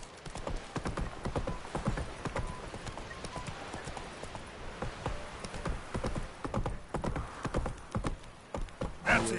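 A horse gallops in The Witcher 3 video game with rapid, rhythmic hoofbeats that stay close and clear the whole way and grow heavier near the end.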